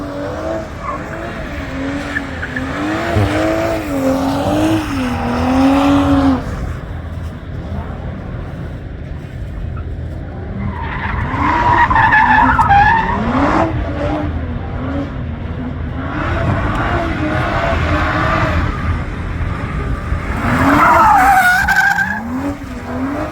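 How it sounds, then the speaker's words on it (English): A drift car at the SEMA show skids with sustained wavering tire squeal over a roaring engine, loud and continuous, rising and falling across several passes amid crowd noise. "So I never saw a drift car in my life."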